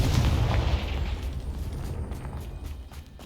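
A Confringo spell explodes in the video game Hogwarts Legacy with a deep, booming blast that rumbles loudly at first and then fades over a few seconds.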